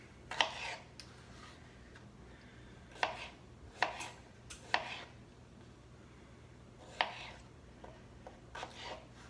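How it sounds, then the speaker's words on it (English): Raw potatoes chopped on a cutting board: about eight sharp, close knife thuds come in irregular pairs and singles with pauses between, alone over a low steady hum. "So I've got the potatoes chopped."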